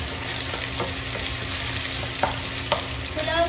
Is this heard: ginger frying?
yes